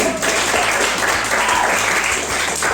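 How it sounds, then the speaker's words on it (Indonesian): A school class claps together for a classmate in a guidance lesson, brisk crowded clapping sustained for nearly three seconds without talk. "Tepuk tangan semuanya."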